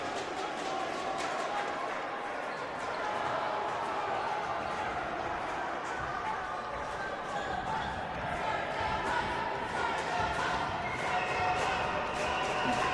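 Crowd noise at a men's college volleyball match, a dense continuous roar of many voices with rhythmic chant-like surges and sharp ball or clap impacts, steady and loud throughout.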